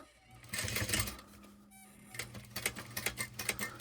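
A sewing machine stitches fabric along a marked green line, running in a steady rattling whir with a brief pause midway before the needle resumes its rapid, close mechanical chatter.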